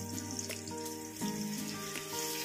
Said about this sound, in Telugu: రెండు నిమిషాలు వేగనిద్దామండి